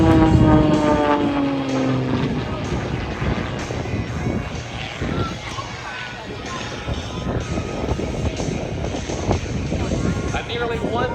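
Zivko Edge 540 aerobatic propeller plane performing a tail slide at an airshow, its engine drone shifting pitch and fading under crowd and announcer talk.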